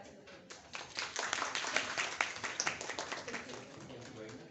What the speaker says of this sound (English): please give a round of applause to Dr. Hassan Akram